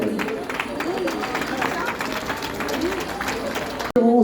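A crowd applauds steadily for an elite women's half-marathon runner being introduced at Les Sables, the clapping a continuous wash under an announcer's amplified voice, then a brief drop near the end.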